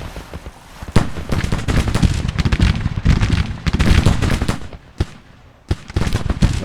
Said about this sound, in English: Go shoot that artillery.